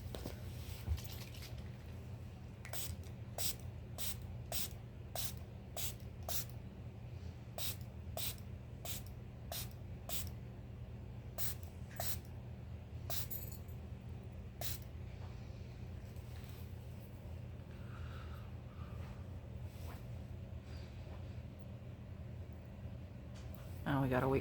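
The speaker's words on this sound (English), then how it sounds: "I'm gonna use the Milani Make It Last setting spray in" Milani Make It Last setting spray in Original is misted in a long series of short, crisp pumps, about a dozen evenly spaced bursts followed by a few more, close to the mic over a faint background hum.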